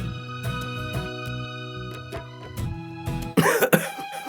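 A man coughs repeatedly, a series of harsh bursts spread across the clip that grow louder and rougher toward the end, heard over a faint steady background tone.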